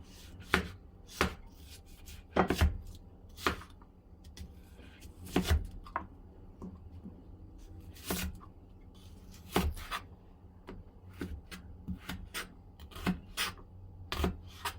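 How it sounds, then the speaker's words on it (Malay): A knife chops through large onion slices on a board in sharp, irregular thuds, some in quick pairs and others spaced apart, close and distinct over a quiet background. "nak potong dulu irisan bawang besar"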